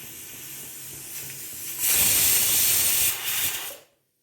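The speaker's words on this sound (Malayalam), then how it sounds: "നമ്മുടെ കറി വിസിലടിച്ചു." A pressure cooker holding ridge gourd and lentil curry releases a loud, rushing hiss of escaping steam. The hiss swells after a quieter stretch, holds for about two seconds, then cuts off abruptly.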